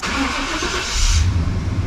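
A 1995 Chevy Silverado with a 5.7L V8 starts up: a steady hiss and whir give way to a low engine rumble that settles into a close, loud idle.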